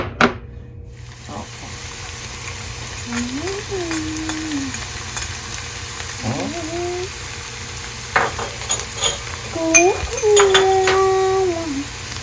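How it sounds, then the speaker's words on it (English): Red onions frying in olive oil with tuna, a steady close sizzle with occasional stirring scrapes while someone talks over it. "And we're going to add the onions. Red onions, perfect."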